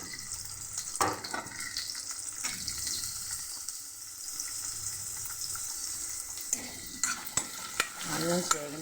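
Onions frying and being stirred in a pan on a home kitchen stove, a steady close sizzle broken by scraping stir strokes and a few sharp clinks toward the end.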